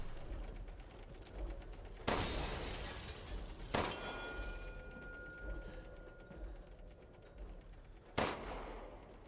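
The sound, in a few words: gunfire in video game Resident Evil Village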